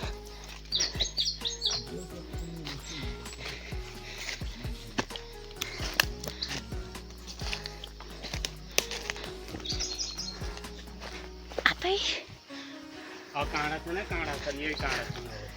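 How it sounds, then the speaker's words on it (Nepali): Birds chirp and tweet steadily throughout in a windy forest amid busy outdoor activity, with people talking and rustling movement nearby. "कस्तो चरा चुरुङ्गीहरू मजाले कराएको"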